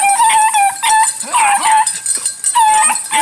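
Several dogs whimper and yip in rapid, high-pitched overlapping cries, close and loud, continuous throughout with whining pitch slides and no speech.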